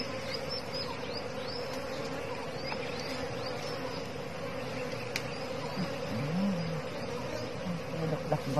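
Wild forest bees swarm around a seven-tier honey nest in the Kon Tum forest, making a dense, continuous, close buzz with individual insects droning past and faint handling noises beneath.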